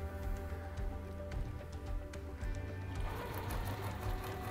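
A sewing machine stitches selvage fabric scraps in quick rhythmic bursts of needle clatter, close and fairly quiet, with brief pauses between runs and no talking.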